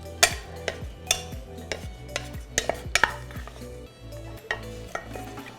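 Toasted garlic chunks and a snack mix being stirred in a bowl, giving repeated crisp clattering scrapes in an uneven rhythm, close and fairly loud, with no talking.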